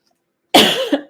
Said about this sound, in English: So I still am coughing a little bit, clearing my throat.